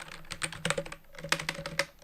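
Rapid keystrokes tap on a computer keyboard as a search is typed, a close, dense run of light clicks in uneven bursts with a brief pause midway.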